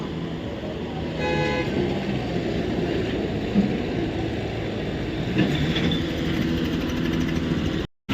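A CRDI tractor hauls a heavily loaded sugarcane trolley toward the mill with a continuous engine drone, broken by two short horn toots and heard without talk.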